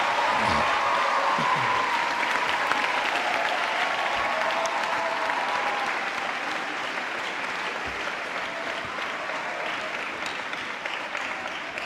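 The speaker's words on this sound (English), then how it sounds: "give a resounding round of applause to all parents and guardians present here" A graduation crowd at a university ceremony in Ghana applauds parents and guardians with a loud, sustained ovation and a murmur of voices inside it, easing slightly toward the end.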